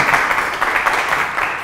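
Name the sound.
round of applause for Josie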